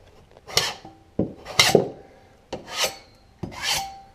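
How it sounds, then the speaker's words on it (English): A 4-inch putty knife scrapes across drywall in four distinct close strokes, each a short gritty rasp with a sharp start, separated by brief pauses. "And you use a 4-inch putty knife here."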